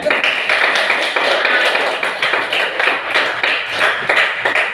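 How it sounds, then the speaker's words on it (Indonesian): A classroom of students gives applause for their classmates: dense, continuous clapping from many hands that stays fairly loud and even for the whole stretch, with no talk over it. "tepuk tangan untuk teman-temannya"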